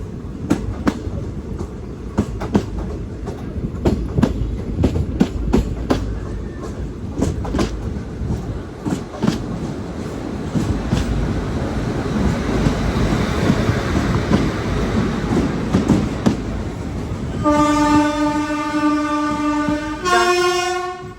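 A train rolls into platform 3 at Mangaluru Junction with a continuous rattle and clatter of wheels over the rails, then a loud train horn blares in two blasts near the end.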